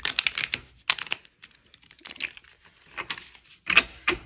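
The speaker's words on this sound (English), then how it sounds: "I'm just gonna give these one more shuffle." Tarot cards being shuffled by hand, a close series of crisp riffling and tapping bursts separated by short quiet gaps.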